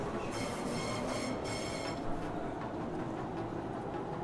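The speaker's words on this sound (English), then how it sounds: "another train will come up to pick you up" A train in the video game Call of Duty Warzone rumbles steadily with a metallic, humming drone and faint high squeals on top, sounding close by and continuous throughout.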